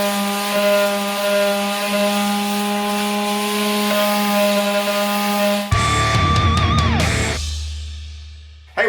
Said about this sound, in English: This is the DWE6411 Dewalt sheet sander,